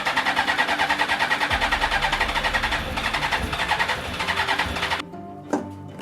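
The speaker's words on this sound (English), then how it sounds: "Gonna prime it a couple times just to draw some more fuel into the system." A Suzuki GSX-R1000 motorcycle cranks with a fast, rhythmic, loud pulsing whir as its fuel pump primes. The cranking stops abruptly, leaving near quiet and a brief knock.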